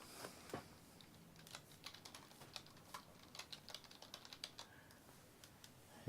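Quiet, close computer keyboard typing, a steady run of light irregular keystrokes entering a name, with no voices.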